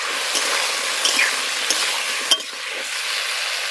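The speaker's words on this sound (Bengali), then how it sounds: "গরম তেলে শিম এবার ভেজে নেব অল্প করে হলুদের গুঁড়ো লবণ পরিমাণ মতো দিয়ে দেব" Green beans frying in hot oil with turmeric and salt, a dense, even sizzle close up, broken by a few soft stirring taps and one sharper knock, with no talking.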